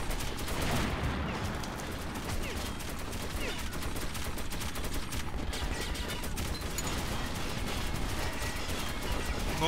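Dense, continuous gunfire in the shooter game Metro 2033 Redux, with rapid overlapping shots forming a loud, unbroken barrage throughout.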